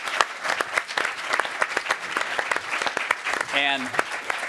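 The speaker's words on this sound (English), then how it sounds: "let's have a round of applause for our" Audience giving a round of applause for a recovery panel, steady dense clapping throughout with a brief voice calling out near the end over the applause.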